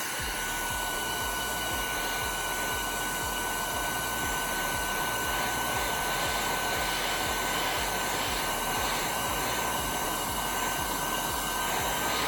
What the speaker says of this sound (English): what I need to do is heat it up with my heat gun and peel it off